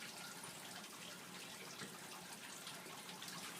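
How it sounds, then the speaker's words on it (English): Water runs from a faucet fitted with a rubber hose, rinsing out a sediment container in a soils lab. It makes a steady, even hiss and rush with no break and no voices over it. "rinse that out. There's a kind of rubber hose attached to the faucet there."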